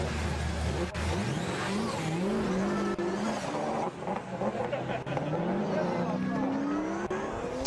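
A BMW 1 Series drift car at a French Drift Championship battle revs and howls through rising and falling engine notes while tires squeal and skid continuously, heard at a moderate distance beneath a commentator talking.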